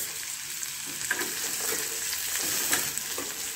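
Upma ingredients of semolina, onion, cashews, tomato, almonds and curry leaves sizzle steadily in a pan while being stirred and roasted, a constant close frying hiss with soft scraping.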